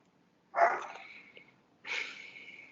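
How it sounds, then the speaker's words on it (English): A dog gives two separate barks about a second apart, husky and drawn out, close by with quiet in between. "What is she barking at?"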